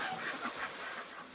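Chickens in the Farming Simulator 19 video game cluck and honk in a steady, busy flock chatter, fairly loud and continuous throughout.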